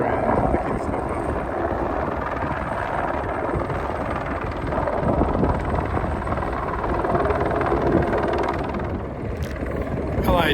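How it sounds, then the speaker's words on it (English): A helicopter at the Grand Canyon's Bright Angel Trail drones loudly and steadily nearby, its rotor chop and engine whine sustained throughout with some wind noise on the microphone. "the helicopters are coming there and picking stuff up."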